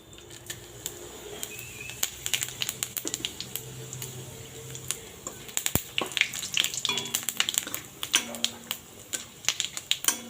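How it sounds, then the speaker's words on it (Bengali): Whole dried red chillies and bay leaves fry in hot oil left from frying pointed gourd, a steady close sizzle broken by sharp crackles and spatters that grow busier toward the end. "পটল ভাজা উঠিয়ে নিয়ে ওই তেলেই আমি গোটা শুকনো লঙ্কা আর তেজপাতা দিয়ে দিলাম"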